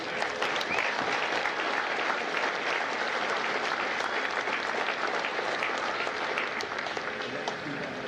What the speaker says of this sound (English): a round of applause for our recruiters and combat instructors